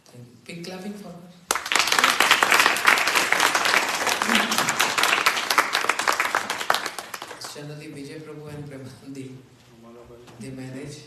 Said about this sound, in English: big clapping for her